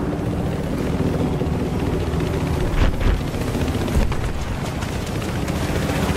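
Helicopter in a Battlefield game, a loud, close, continuous rotor thrum with a heavy low rumble and a couple of brief thuds of gunfire or impacts mixed in.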